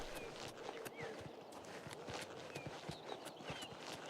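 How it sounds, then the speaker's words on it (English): Faint, quick horse hoofbeats from the video game The Elder Scrolls IV: Oblivion Remastered clip-clop in a steady rhythm over a low background, somewhat distant, with no talk. "I heard some horse."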